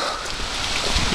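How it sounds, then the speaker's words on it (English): Steady rain falling outdoors, a dense continuous hiss with some wind rumble and no talk. "The rain is helping."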